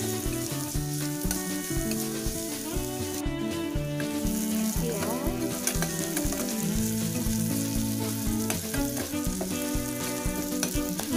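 Garlic and onion sauté in a pan, salted as they cook, for a sardine dish, giving a steady sizzle and frying hiss under prominent melodic background music for the whole stretch.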